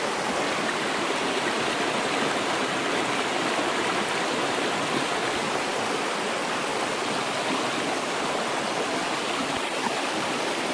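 A stream runs over rounded stones outdoors, its water rushing in a loud, constant wash throughout with no voices.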